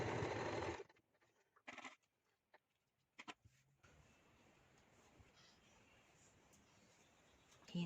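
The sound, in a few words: sewing machine stitching a fabric headband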